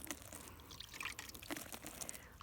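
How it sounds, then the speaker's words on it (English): Water cupped in a hand is sprinkled over lettuce seedlings, making a faint scattered patter of drips and trickles on leaves and soil. "I cup the water in my hand like this, and I sprinkle it over so that the leaf can get some water as well"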